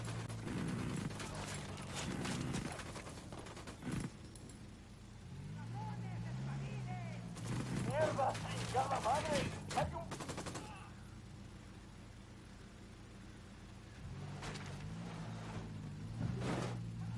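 Bursts of gunfire from a military shooter video game, Ghost Recon Wildlands, crackle in rapid volleys over steady engine drone, with squad members talking over radio between and during the shots.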